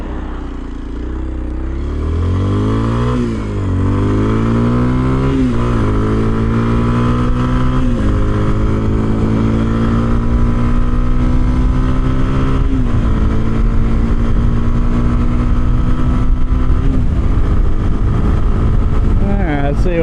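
A 2026 Kawasaki KLX 230 Sherpa S motorcycle at full throttle, its loud engine climbing in pitch through several gear changes and then holding a high, steady drone with wind noise, close and continuous.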